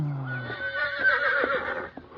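Horse whinny sound effect from a 1946 Lone Ranger radio drama: one long, clear neigh that falls in pitch, followed by softer snorting and shuffling noises close by.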